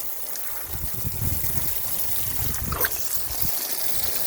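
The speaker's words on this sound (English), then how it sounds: "So I'm going to water in between them." Water poured onto the soil between rows of young garden plants, a continuous soft trickling and splashing heard up close without talk.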